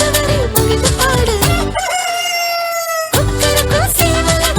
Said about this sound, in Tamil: கொக்கரக்கோ சேவல காலையிலே கூவது